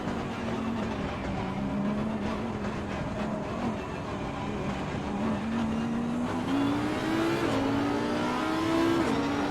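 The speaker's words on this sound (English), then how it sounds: "Here we go, we're already racing." GT3 race cars roar away at a race start at Zandvoort in the Assetto Corsa Competizione racing game, with a loud continuous engine drone whose pitch climbs steadily as the car accelerates through the gears.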